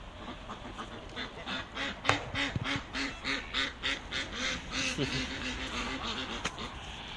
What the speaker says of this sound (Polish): gęsi i kaczki u góry są.